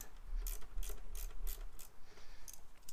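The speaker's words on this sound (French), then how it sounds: "je vais prendre un petit cliquet avec comment ça s'appelle, un embout cruciforme" A hand ratchet fitted with a Phillips bit loosens screws on a Renault Megane 3 1.5 dCi airbox, giving a series of sharp, regular clicking bursts, close and fairly quiet.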